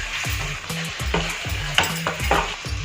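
Prawns sizzle and fry in a hot pan for a spring onion prawn gravy, with a steady series of stirring scrapes repeating every half second or so, no voices.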